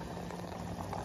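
Vegetarian noodle soup with spring onion bubbles at a steady boil in a pot, a close, continuous, soft simmering gurgle with no talking.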